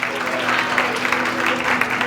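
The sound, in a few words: applause for the homeland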